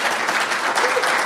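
An audience at a university lecture on free speech and free markets claps steadily, a dense, even wash of applause from many hands.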